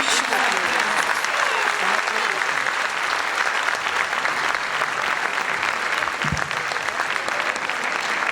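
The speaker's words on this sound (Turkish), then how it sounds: "Bir alkış daha alalım." Sustained applause from an audience fills the room, steady and dense throughout with no voices standing out.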